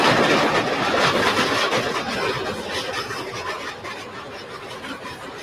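A steam locomotive in a train simulator game, using the Flying Scotsman's sound set, rumbles along with a dense, continuous rolling roar and rhythmic clatter that fades slightly over the span, with no talk.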